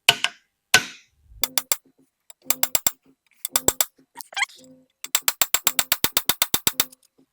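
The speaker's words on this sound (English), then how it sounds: "So let's go ahead and just drive this bushing in." A bushing is driven into a Dodge 46RE automatic transmission with sharp metallic hammer taps, first a few spaced strikes, then short bursts, then a fast, even run of about a dozen ringing blows at close range.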